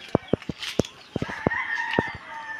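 Chickens on a Filipino farm in morning sunlight: a string of sharp clucks and short calls, with a rooster crowing partway through, close by and fairly loud, and no one speaking.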